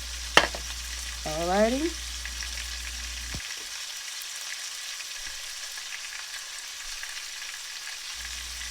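Hamburger patties fry in a pot with a faint continuous sizzle, a sharp clank and a brief whining scrape early on, then quieter hissing; a voice speaks once.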